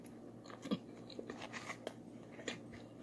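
Close, quiet chewing and biting of McDonald's food, with soft crunchy bites at irregular intervals and no talking.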